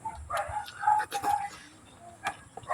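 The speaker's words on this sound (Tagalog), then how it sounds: "Daming aso dito mga idol. Kaya maingay." Several dogs bark sporadically, some sharp yips among them, at a moderate distance over faint background noise.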